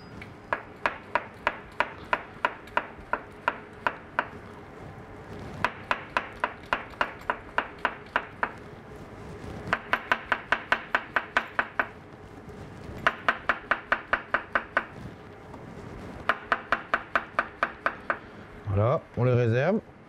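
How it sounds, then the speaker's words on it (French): A kitchen knife slices fresh button mushrooms on a cutting board in quick bursts of sharp, evenly spaced taps with brief pauses between runs, close and crisp, followed by a short rustle at the end. "Alors, pour commencer, je vais émincer mes champignons."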